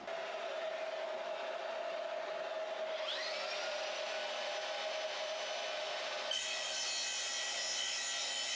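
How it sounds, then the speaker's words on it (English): A vacuum cleaner rigged up on a building job runs as a steady, loud broadband whine throughout, its pitch rising a few seconds in and shifting again near the end, with no talking. "So I just got to flip the hoover on now and go for it."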